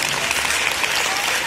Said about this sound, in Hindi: उनको ध्यान में रखते हुए जोरदार तालियां बजाइए।